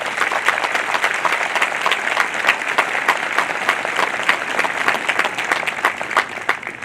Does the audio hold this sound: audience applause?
yes